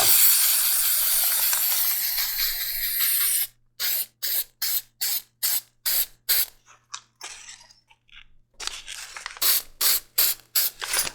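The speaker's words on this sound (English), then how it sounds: "I almost always use this leather sheen spray over top of antique stains" Leather sheen spray finish misted onto a leather holster, one long hiss followed by a rapid series of short, sharp spray bursts from a pump or aerosol nozzle.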